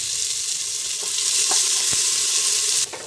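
Finely chopped onions, two medium ones, frying in hot oil in a home kitchen pan, giving a steady, close broadband sizzle with a few soft clicks and stirring taps, alone without talk, easing off slightly at the end.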